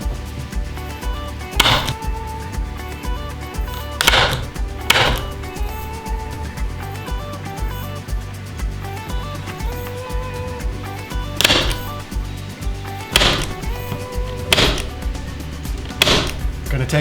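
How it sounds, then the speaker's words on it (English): Staple gun driving staples through screen-printing mesh into a wooden frame, a series of sharp, loud snaps spaced a second or two apart over a steady background hum. "we're just gonna go along with the staple gun"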